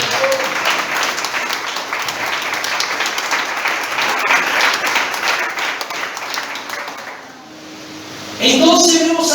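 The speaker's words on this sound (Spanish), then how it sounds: "Den un fuerte aplauso" Loud applause from a church congregation fills most of the stretch, fading out near the end before a voice starts speaking.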